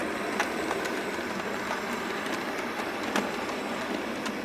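An S15 model railway locomotive runs steadily along the track, giving a constant close rolling rumble with faint rhythmic clicks at the rail joints. No voices are heard.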